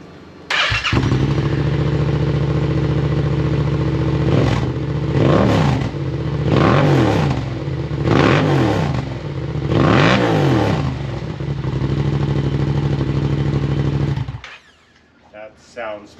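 A Yamaha MT-07 fitted with a full exhaust system and its baffle removed idles with a deep, loud rumble, then is blipped through several sharp revs before the engine cuts off near the end.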